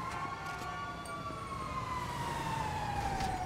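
A fire engine siren in the video game GTA V wails with a slow falling tone over a steady rumble of traffic, loud and fairly close, with no talking.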